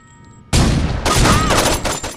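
Bursts of rapid gunfire in the video game Saints Row 2, loud and close, opening abruptly after a short quiet lead-in and continuing as a dense crackling volley.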